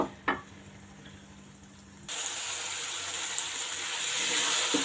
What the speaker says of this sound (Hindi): प्याज हमारा फ्राई हो गया।